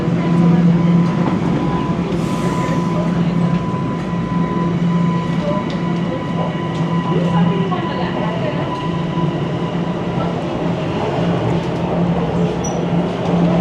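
A New York subway train carries riders on a short trip, with a loud, continuous rumble of the cars throughout, faint clattering along the track, and a steady hum. Passengers murmur in the background.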